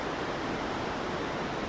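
Steady broadband rush of a waterfall beside a bridge on a winter jungle trail in Uttarakhand, continuous and fairly close with no voices over it.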